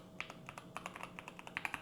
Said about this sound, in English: I really like this clacking sound. It really gives a satisfying way of typing, this one